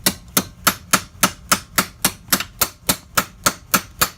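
Steel hammer blows striking metal bent over the edge of an anvil, about fourteen sharp ringing strikes in a steady even rhythm, close and loud with no talking.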